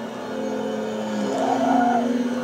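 Car sliding in the Test Drive 5 racing game: a steady engine drone with a rising, wavering screech of tyres through the middle, continuous and fairly close, with no voices.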